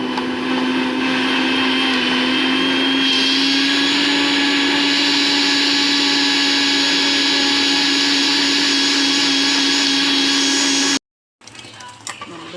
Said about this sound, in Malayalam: ഒന്നുകൂടി ഇളക്കി മിക്സിക്കകത്തിട്ട് അരയ്ക്കുക